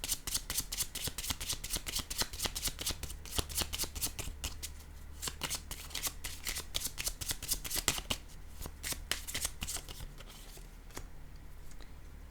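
Oracle cards are shuffled by hand for a reading, a rapid run of crisp riffling flicks and slaps close to the listener, continuing steadily and easing off near the end, with no speech.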